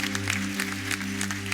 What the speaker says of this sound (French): j'aimerais vraiment qu'on les applaudisse bien fort